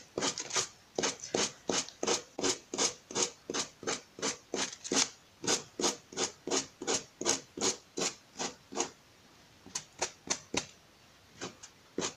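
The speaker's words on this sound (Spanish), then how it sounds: "Se pone la lija así y se le da para abajo con suavidad" Sandpaper rubbed down over a small handmade thermometer craft, about thirty even, close, raspy strokes in a steady rhythm with a brief pause near the end.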